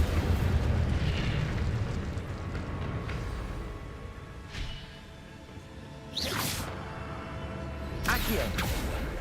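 The Incendio fire spell cast in Hogwarts Legacy, loud roaring fiery bursts with sweeping whooshes over continuous game rumble and noise, two sharp flare-ups near the end.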